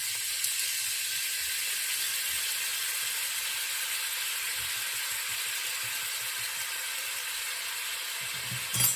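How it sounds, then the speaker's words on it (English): Flour sifted into melted butter in a pan for a creamy mac and cheese sauce, under a steady soft sizzle and hiss from the hot pan, with no talking. "To the butter, I'm going to sift 1 tablespoon of flour."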